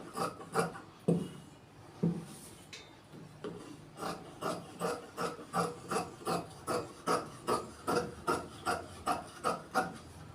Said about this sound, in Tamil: இப்போ பேக் வெட்டுவதை கவனிங்க